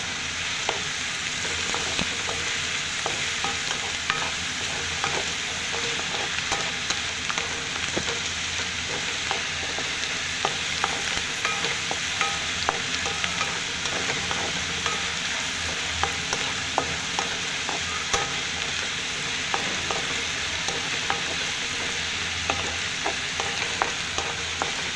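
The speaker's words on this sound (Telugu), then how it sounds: "ఇంకా వేయించాలా, ఇంకా కొద్దిగా వేయించాలా. బాగా క్రిస్పీగా కావాలా." Ridge gourd peel fries in oil until crispy, giving a long, continuous, close sizzle dotted with small pops and crackles, with no speech.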